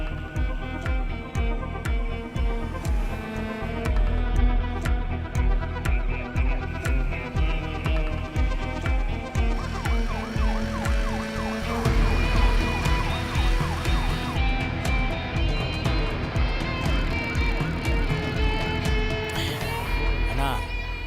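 A siren wails continuously over a loud, rumbling engine and steady background noise, sustained and close throughout.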